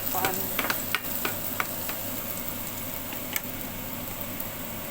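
Bitter gourd cooked with egg in a pan, a steady frying sizzle with scattered stirring clicks and scrapes of a utensil throughout, fairly close and without talk.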